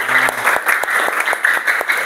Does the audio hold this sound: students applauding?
yes